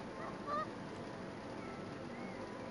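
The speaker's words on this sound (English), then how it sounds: "Alright, we got the geese, the other variant." Geese honk in a pixel zoo video game, with a few brief nasal calls set over a steady background hum at moderate volume.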